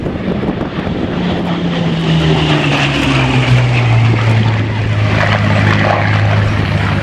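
A Hawker Hurricane propeller aircraft drones past at an air festival in Cleethorpes, its engine pitch sliding slowly downward as it passes by, loud and steady throughout.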